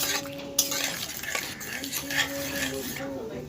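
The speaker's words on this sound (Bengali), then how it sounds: "খুন্তি দিয়ে আমি ভালো করে ঘেঁটে দেবো মুসুর ডাল" A metal spatula scrapes and clinks against a cooking pot while masoor dal is stirred with bottle gourd stems, producing soft, repeated scraping strokes and occasional sharp taps, with a faint hum underneath.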